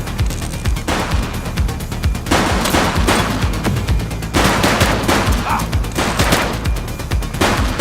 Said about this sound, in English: police are engaged in a fierce shootout following yet another bank robbery